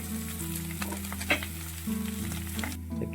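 Mashed potato filling for vegetarian aloo paratha frying in a pan, a close steady sizzle with scraping stirs and occasional spatula taps, no voices.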